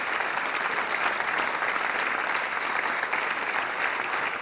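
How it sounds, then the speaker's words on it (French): Sustained, dense applause from a theatre audience cheering volunteers at a hypnosis stage show, a steady roar of many hands clapping at even loudness throughout with no voices on top. "On applaudit nos sujets"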